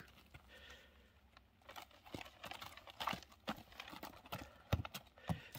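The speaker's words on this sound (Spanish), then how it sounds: "vemos ya como el caballo nos está dejando guiar" Hooves of a rescued horse clip-clop irregularly as it is led during desensitization training, a few distinct louder steps near the end among softer scuffs, with faint rustling in the background.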